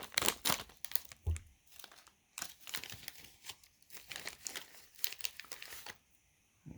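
A dark chocolate snack package is torn open, giving loud, close crinkling and tearing of plastic wrapper in several bursts with short pauses between.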